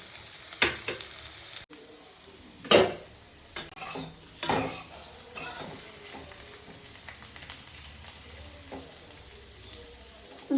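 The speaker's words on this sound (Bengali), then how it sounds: "আলুর দম আলুগুলো প্রথমে সাঁতরিয়ে দিচ্ছি" Potatoes frying in a pan for aloo dum, a soft continuous sizzle broken by several sharper clinks and scrapes of a spatula against the pan, close and fairly quiet.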